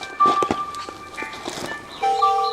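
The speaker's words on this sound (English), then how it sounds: "See it ringing now?" A phone rings with bright electronic tones, repeating in short bursts amid some handling noise and clatter.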